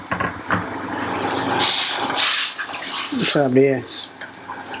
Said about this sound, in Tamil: இப்போ பார்த்தீங்கன்னா நம்ம தண்ணி ஊற்றிடலாம்.